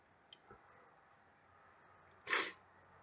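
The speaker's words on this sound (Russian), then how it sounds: "Назовем так, чихание на камеру." A single short sneeze from a person on camera bursts out near the end, fairly close and sharp against a quiet, faintly hissing background, with a couple of small soft clicks earlier.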